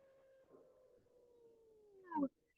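A group of people at a wellness session imitate wolf howls, a long drawn-out falling vocal tone that ends in a short, louder burst of cheering.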